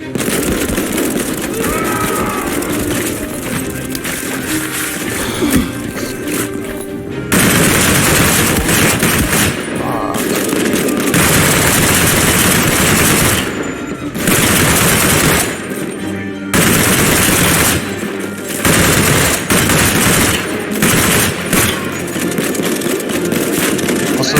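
Machine gun fire in the World War video game Land of War, loud sustained bursts of automatic gunfire separated by short pauses, repeated many times over about twenty seconds.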